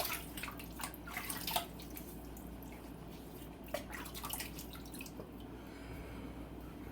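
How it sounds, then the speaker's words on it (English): Water splashing and dripping as a face is wetted before a wet shave at a sink, with a steady trickle and scattered small splashes and drips close by, no talking. "I'm going to wet the face."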